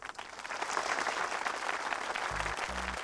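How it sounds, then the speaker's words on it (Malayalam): An audience applauds in a steady, dense wash of clapping that continues without a break, heard at moderate volume. "കയ്യടി നിർത്താൻ പറയൂ"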